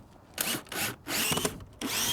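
A power drill drives screws into 2x4 wood blocks in four short, close whirring bursts of about half a second each, separated by brief pauses.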